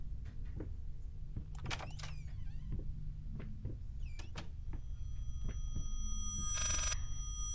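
An eerie, uncanny sound like a phone ringing backwards in the horror video game Layers of Fear, sharp sweeping chirps and tonal swells with a shimmering burst near the end, faint over a low steady hum, no talking.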